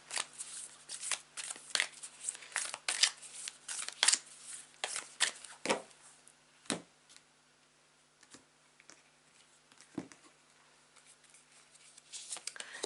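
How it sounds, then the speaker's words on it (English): A deck of tarot cards being shuffled and handled up close, with crisp riffling flicks and soft slaps coming in irregular bursts and separated by quiet pauses. "I'm going to close out those messages by pulling out a couple of cards from this deck"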